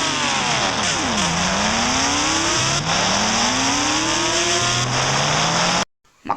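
A KTM Duke 200 motorcycle engine in an Indian bike simulator game revs loudly and steadily, climbing through gears with repeated rising sweeps for about six seconds before cutting off abruptly.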